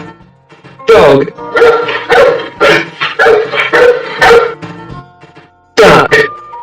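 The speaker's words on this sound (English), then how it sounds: "Dog." A domestic dog barks repeatedly in a steady series of loud, close yips and woofs, pausing briefly before a final burst of barking.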